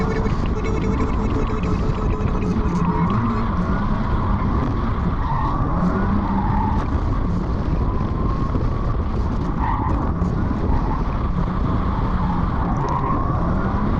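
A Mazda MX5 race car at full speed on the Snetterton circuit during a club championship race, its engine roaring loud and constant from on board, with wind and tyre noise and slight pitch shifts.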